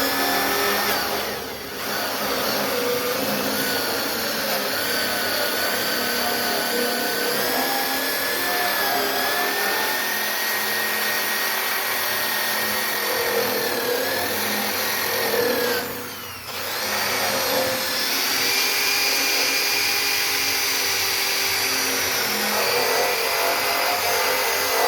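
A power tool fitted with a 3M Scotch-Brite stripping pad works over a truck box, a loud, steady high-pitched whir with a grinding rasp, briefly dipping twice as the pad eases off the surface.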